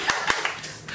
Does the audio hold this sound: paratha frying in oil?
no